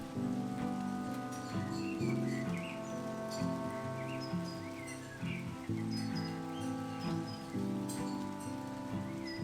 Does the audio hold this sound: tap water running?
no